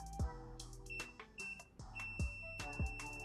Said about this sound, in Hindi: इस मोड में अगर रेजिस्टेंस की वैल्यू 50 ओम से कम है तो ये मल्टीमीटर बीप करता है।